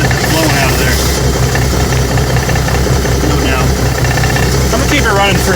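A 1975 Kenworth LW924 truck's diesel engine runs steadily at idle, a loud continuous rumble with a knocking undertone and hissing from an air leak, heard close with no clear speech.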